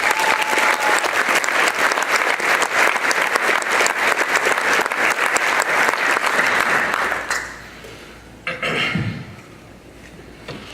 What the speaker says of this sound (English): Give a round of applause to my entire development team.